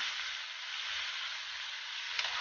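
Abaling, June bug larvae native to Isabela and Cagayan Valley, being stir-fried in a pan: a steady, even hiss of sizzling oil with a faint stir near the end, close and continuous.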